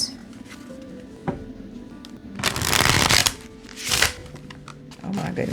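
A tarot deck being shuffled by hand, bursts of riffling card noise with two loud flurries in the middle and softer handling around them, close by with no talking.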